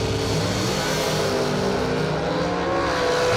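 A Mopar drag racing engine revving hard toward 9,200 RPM, a loud, continuous high-pitched roar heard up close at the drag strip.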